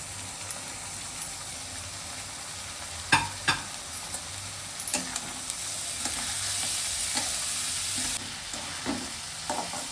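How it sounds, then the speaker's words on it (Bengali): Soaked and drained masoor dal, red lentils, frying in a pan with a continuous sizzle and crackle, broken by a few sharp scrapes and knocks as a spatula stirs the lentils, close and clear. "ভিজিয়ে রাখা মুসুরের ডাল, যেটাকে জল ঝরিয়ে নিয়েছি, সেটাকে ঢেলে দেব। দিয়ে এটাকে আমি 2 থেকে 3 মিনিট ভাজা করব।"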